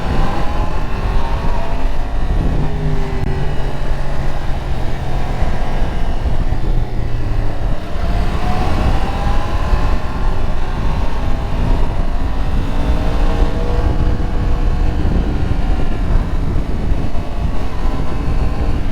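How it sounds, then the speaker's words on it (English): A 2022 Yamaha MT-10 motorcycle engine pulling in first gear, a steady loud drone with rising and falling pitch sweeps as it accelerates and shifts, wind noise running throughout with no talk. "I just want to leave in first gear and just listen to that engine."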